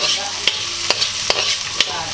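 Onion stirred in a cooking pan for Japanese chicken curry: a steady close sizzle punctuated by four or five crisp scraping strokes at an even pace, with no one talking.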